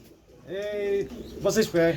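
Pigeons at a crowded pigeon seller's stall coo in a few short throaty calls, close and fairly loud, with voices of people talking around them.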